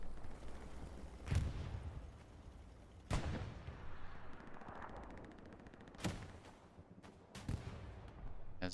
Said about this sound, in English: As a rocket goes in.